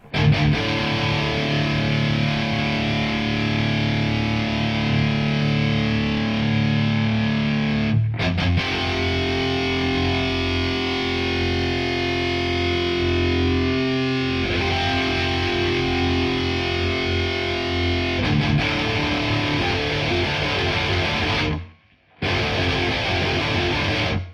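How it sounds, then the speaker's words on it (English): Heavily distorted high-gain electric guitar, a Harley Benton SC 550 II, playing sustained, chugging rhythm parts, loud and continuous, with a brief cut-out near the end. "I'm gonna start with the high gain rhythm tones, so yeah, it's gonna chug."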